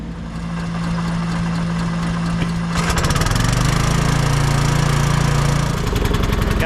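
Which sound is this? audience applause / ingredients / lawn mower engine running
lawn mower engine running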